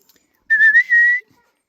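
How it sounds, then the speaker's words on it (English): A single short, clear two-part whistle to call a dog, close and loud, rising slightly in pitch against silence. "you give a little whistle"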